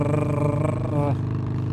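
Harley-Davidson Forty-Eight motorcycle cruising at 80 km/h, its engine giving a steady, close, throbbing note that shifts slightly just past the one-second mark.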